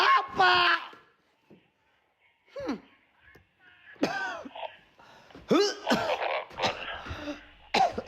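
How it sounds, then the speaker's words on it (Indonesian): Several throaty coughs and throat-clearing bursts in a quiet room, separated by brief pauses, with a voice speaking between them. "Gua cuman batuk doang"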